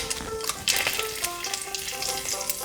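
Spices tempering in about three tablespoons of hot oil in a kadai: five-spice seeds, two bay leaves and a dried chili, giving a loud dense sizzle with crackling pops and spatters across the short stretch.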